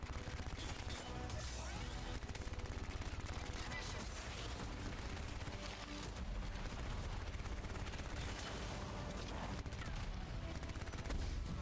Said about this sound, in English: Jeez, what is shooting me?